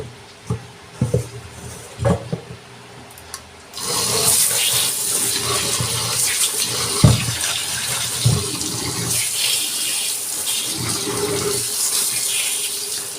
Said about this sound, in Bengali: এবার একটু ঠান্ডা জলের মধ্যে দেবো